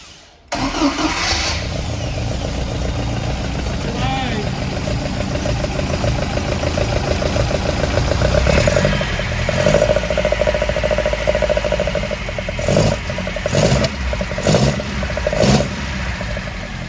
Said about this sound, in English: a Pinto engine always sounds awful on an iPhone